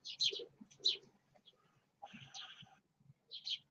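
Birds chirp and call from a bush in short separate bursts, a few clear tweets followed by pauses and a softer, lower flutter of calls, fairly close and unaccompanied by talk.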